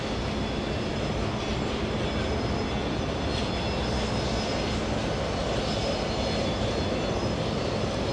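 A Delta airliner, flight 958 in from Los Angeles, roars steadily on approach to JFK airport in New York, a loud broadband engine rush that holds unbroken throughout without voices.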